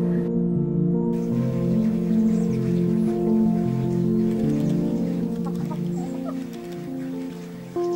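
Chickens cluck in a village yard in Ogurda, Khulo district, Georgia, with repeated close, fairly loud calls over a steady background.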